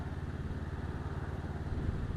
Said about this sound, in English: I've slowed, through engine braking